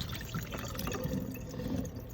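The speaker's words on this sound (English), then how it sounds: "So I'm going to take my measuring cup and pour this in here." Liquid with pineapple and other fruit pieces is poured from a measuring cup into a strainer, a soft, steady splashing trickle that is faint and close, with no voices.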